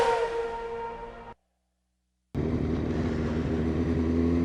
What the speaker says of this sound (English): Give your bike a rev, then put down your visor.